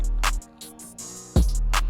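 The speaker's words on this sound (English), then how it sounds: "I know a lot of people just drop a limiter on their track so they don't have to worry about weird sound artifacts" A hard drum beat played in Ableton Live 10 with a limiter on the master channel: punchy kick and snare hits with crisp hi-hat ticks, loud and steady, no voices.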